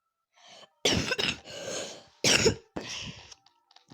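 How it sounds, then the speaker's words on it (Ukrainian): Several harsh coughs in quick bursts, close and loud, with short pauses between them. "Чи я так аж кашлю?"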